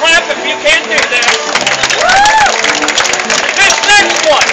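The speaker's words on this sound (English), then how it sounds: "Go ahead and clap if you can't do that." An audience at a street performance at the Portland market in Oregon claps and cheers in a dense, busy burst, with voices and crowd noise mixed in.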